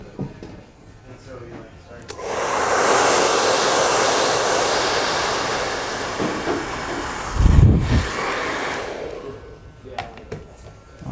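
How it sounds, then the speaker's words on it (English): A hair dryer blows at a barber shop, switching on with a loud steady airy roar for several seconds, a brief thump midway, then cutting off. "I'll blow dry it here."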